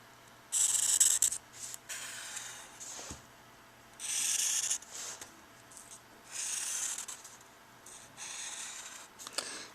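A pen rubs and scratches on paper in several short strokes while a box is drawn for a math problem, close and quiet with pauses between strokes.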